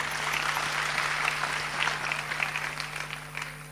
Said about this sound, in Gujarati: કીર્તિભાઈને એકવાર તાળીઓથી વધાવો સાહેબ.